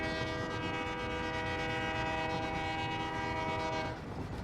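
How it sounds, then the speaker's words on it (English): Train horn in the game Satisfactory blowing one long, loud, steady chord over the rumble of the moving train, cutting off just before the end. "We love the horn blow."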